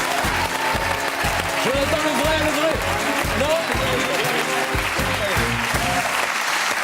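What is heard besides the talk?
audience applause for Jonathan Lambert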